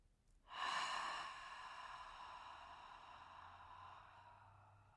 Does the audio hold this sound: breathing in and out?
yes